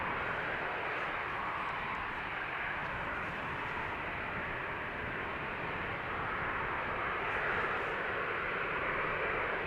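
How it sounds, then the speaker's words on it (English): A KLM Boeing 737-700 departing Amsterdam Schiphol, its engines a steady, fairly distant broadband roar that holds evenly throughout, with no voices. "KLM flight 1961, KLM Boeing 737-700 outbound Zurich, Switzerland"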